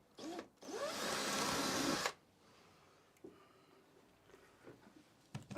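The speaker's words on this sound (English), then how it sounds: "make sure it's not on hammer so it doesn't make any loud noises." An electric drill, hammer mode off, bores a hole through a model railway layout near a tunnel in one loud, steady whining burst of about a second and a half, then stops; a few soft knocks follow.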